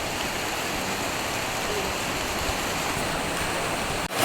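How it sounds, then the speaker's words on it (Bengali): Heavy monsoon downpour pours down outdoors as a steady, dense roar of rain with no break, ending in a brief knock near the close. "দেখুন আকাশে মেঘ দেখতে না দেখতে এই মুষলধারে বৃষ্টি আরম্ভ হয়ে গেল।"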